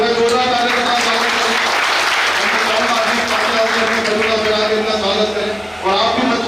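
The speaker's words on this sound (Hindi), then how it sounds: "मैं जोरदार ताली के साथ स्वागत" An audience at a stage program claps loudly and steadily to welcome a guest; the dense applause runs the whole time, dips briefly near the end, and carries a faint tonal hum beneath it.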